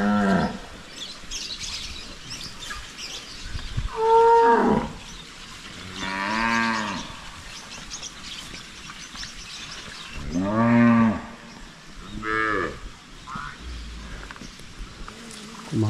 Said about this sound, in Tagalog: Nag-ingay yung mga lalaking baka natin.